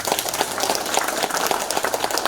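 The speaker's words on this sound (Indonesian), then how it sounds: "Tepuk tangan dong." An audience at a youth organization's declaration event claps steadily, a moderate, continuous patter of many hands heard on its own.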